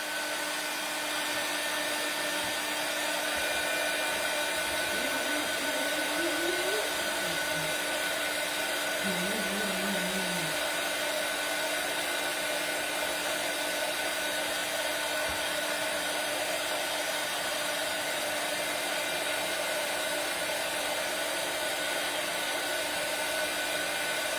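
A hair dryer blows steadily on painted lettering on a wooden Christmas stocking, a loud constant whooshing hum that continues unbroken, with a faint wavering tone briefly above it.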